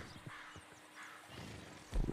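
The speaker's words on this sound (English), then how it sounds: "We might have to ride our horse." Soft hoof clip-clops and a brief whinny from a horse in Red Dead Redemption 2, fairly quiet, ending with a louder thump.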